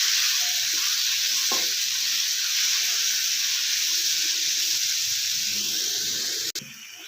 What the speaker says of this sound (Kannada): ತುರಿದಿಟ್ಕೊಂಡಿರೋ ಪಪ್ಪಾಯ ಹಾಕೊಳ್ಳೋಣ. ಚೆನ್ನಾಗಿ ಹುರ್ಕೊಳ್ಳೋಣ.